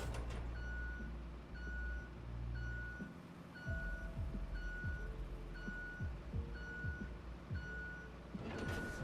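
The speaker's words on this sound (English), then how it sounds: "You're in the reverse beeps" A truck's reversing alarm in the video game RoadCraft, beeping steadily about every second for the whole stretch over a low diesel engine rumble and hiss of air.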